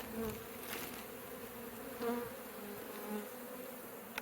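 Honey bees buzz in a steady, faint drone during removal of a colony and its brood comb from a structure, continuous and close with slight swells in loudness and no talking.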